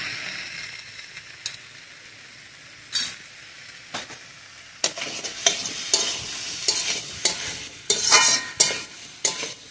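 Cumin powder and ginger paste sauté in a pan for khichuri, a close sizzle under scraping stirs of a spoon, with sharp clinks against the pan growing busier and louder toward the end.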